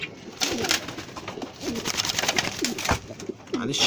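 Pigeons coo in a pigeon loft where young squabs are kept, a close, loud series of rolling, repeated coos with a brief low thud partway through and faint background voices.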